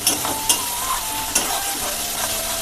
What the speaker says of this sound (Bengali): এবার এই মশলাটাকে আস্তে আস্তে কষাতে হবে